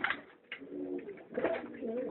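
Pigeons coo in low, throaty, rolling calls, close by and fairly loud, with two or three bursts of murmuring coos and no voices.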